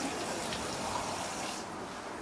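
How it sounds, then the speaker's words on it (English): A steady stream of boiling hot water pours and splashes over dog biscuits in a container, a continuous rushing hiss without pause. "Just cover them with water"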